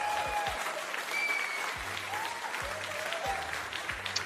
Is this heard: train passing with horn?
no